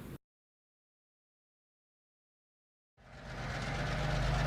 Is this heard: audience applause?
no